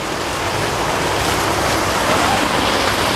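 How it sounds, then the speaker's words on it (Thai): Heavy rain pours onto an Aurora EX 2020 tent in a dense, steady hiss, close and loud for the whole stretch, with no voices. "ฝนจริงๆนะครับเนี่ย"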